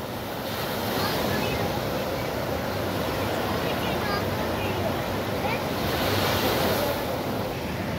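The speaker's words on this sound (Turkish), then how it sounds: "Biraz dalgalı mı Kerem?" Sea waves roll and break continuously at a Kuşadası beach, loud and close, with wind buffeting the microphone and voices talking faintly under the surf.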